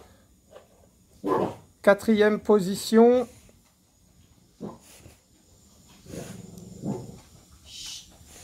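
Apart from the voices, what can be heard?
dogs barking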